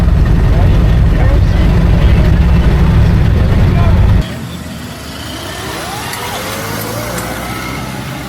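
A 1913 Ford Model T touring car engine runs at a hill climb, a loud low rumble for about four seconds that then drops away into quieter outdoor background with a voice talking.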